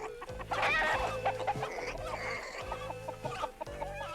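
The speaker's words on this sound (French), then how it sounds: "Les poulets." Several chickens cluck and chatter close by, overlapping in busy bursts with a few louder squawks.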